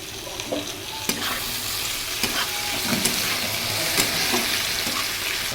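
Chopped tomato frying in oil with sugar for chicken kosha, a steady close sizzle broken by repeated scraping stirs of a spatula against the pan.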